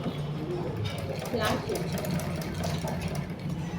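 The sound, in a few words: sewing machine stitching piping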